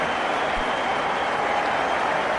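A cricket crowd applauds steadily during a 2015 India vs South Africa one-day international final, clapping and cheering as Harbhajan Singh departs after his innings, a dense broad wash of sound with no pauses.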